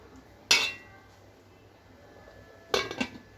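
A metal lid set onto a pot of mutton curry, one sharp clanking knock followed a couple of seconds later by a quick cluster of rattling clinks, close and fairly quiet.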